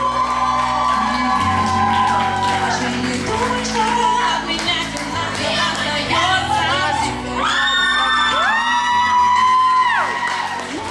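Audience at a school Mister and Miss pageant cheering and whooping loudly over pounding music, shouts and yells rising above a steady crowd roar.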